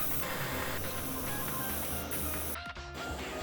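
Primer spray hisses steadily and close up onto a 3D-printed AirPods case, a continuous broadband spray with a brief break near the end before it resumes.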